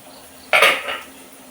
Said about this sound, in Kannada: ಇಡ್ಲಿ ತಟ್ಟೆ ಇದನ್ನು ಮಾಡಿದ್ದೇನೆ ಇನ್ನು ಬೇಯಿಸ್ಲಿಕ್ಕೆ ಇಡ್ತೇನೆ